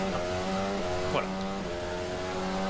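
George Russell's Mercedes Formula 1 car on track in qualifying at the 2022 Miami Grand Prix, a loud high engine whine with shifting pitch sweeps as the car passes, under a commentator's voice.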